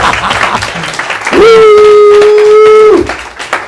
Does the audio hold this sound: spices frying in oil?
no